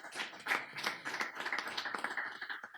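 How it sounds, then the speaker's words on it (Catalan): Audience applause at a round-table discussion in Terrassa, a steady patter of many hands clapping close by for a few seconds, with no one speaking over it. "Molt bé, un aplaudiment per ell."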